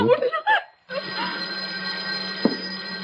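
A telephone rings loudly indoors after some brief voices and laughter, then holds a steady tone over a faint hum, with one sharp knock near the end.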